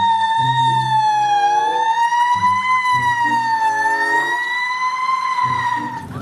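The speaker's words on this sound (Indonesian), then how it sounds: "Wow, ada pemadam kebakaran." A toy fire engine plays a loud electronic siren, a steady wailing tone that rises and falls slowly, layered over a repeating low melodic pattern, continuous for about six seconds before fading slightly at the end.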